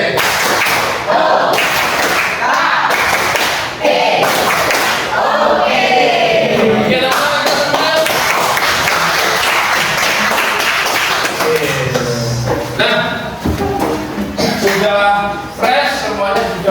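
A group claps together in quick, loud bursts, with voices chattering and calling out throughout.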